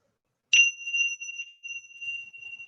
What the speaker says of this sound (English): So I'm going to ring my little bells.